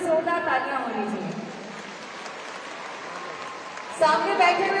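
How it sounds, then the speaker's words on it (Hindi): An audience at a public gathering breaks into applause for children, a broad rain-like wash of clapping in the middle, with someone speaking over the start and again at the end. "एक बार बच्चों की जोरदार तालियां होनी चाहिए।"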